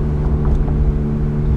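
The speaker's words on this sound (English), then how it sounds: "Now let's do some standstill rev and let's see how it sounds from the outside of the car." Ferrari 430 Scuderia fitted with a 16M exhaust, revved while standing still and heard from outside the car: a loud, steady, deep engine drone with strong low rumble throughout.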